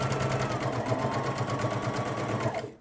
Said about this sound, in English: you're gonna want to sew a 1/4 inch seam allowance